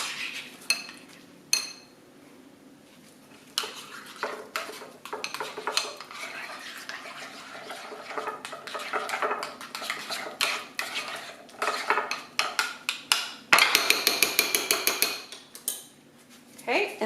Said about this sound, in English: Then I'm going to take my spoon and just mix it up.